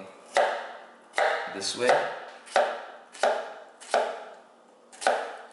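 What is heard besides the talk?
knife cutting an onion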